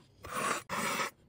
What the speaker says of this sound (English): Now, we start on sharpening. You know what to do with a soft knife. You grab a ProEdge, 14 degrees.